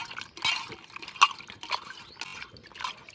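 Water splashes and trickles in short bursts, with a few clinks of a metal vessel as it is tipped and emptied nearby after washing drumsticks.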